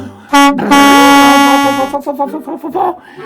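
A loud horn honks twice, first a short blast and then a longer sustained one, followed by softer shuffling noises.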